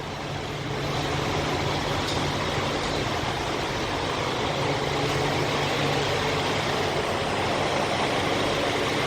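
Truck fuel pump running while refuelling, a steady droning hum under a broad rumble of an idling truck engine nearby, continuous and unchanging.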